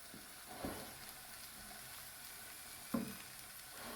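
Cod fillet simmering gently in a pan on low heat, a soft continuous sizzle with two brief louder bursts, no talking.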